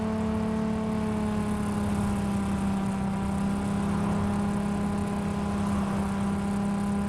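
A loud car engine in Cyberpunk 2077 hums at a steady, even pitch, a continuous droning idle or cruise with no revving, heard alone without talk.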